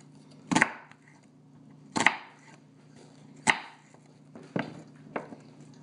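Vegetables for Thanksgiving stuffing being chopped on a board, five sharp knife strikes spaced about a second and a half apart, close and distinct over a low steady hum.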